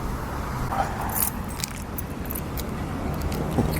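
Car keys with a red alarm button on the fob jangle and clink close by in Bangkok, a continuous light metallic rattling over a low background rumble.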